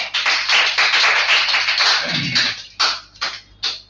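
Audience clapping at a school speaking event on robots: a dense, steady patter of many hands for about two and a half seconds, then thinning into a few separate, louder claps.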